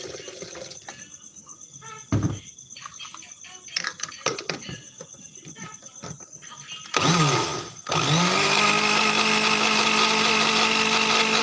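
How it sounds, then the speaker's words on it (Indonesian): A kitchen blender switches on and runs steadily on water, loud and continuous after a few seconds of clattering and handling noise. "Ke blender dulu airnya."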